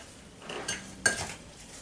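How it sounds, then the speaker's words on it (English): A seasoned Tex-Mex mixture stirred in a bowl or pan, two brief utensil clinks and scrapes, the second sharper, with a faint background hush and no talking. "You just want to stir this really good"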